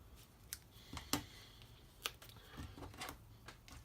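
Scissors make several quick, crisp snips, quiet and close, with short gaps between cuts and no talking.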